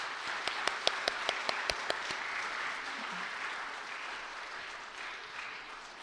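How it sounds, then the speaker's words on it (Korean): After a choir of single-parent families sings at a Christmas-eve church service, an audience gives a soft, sustained round of applause, with a few sharp, distinct claps standing out near the start before the sound tapers off. "다시 한번 뜨거운 박수를 부탁드립니다"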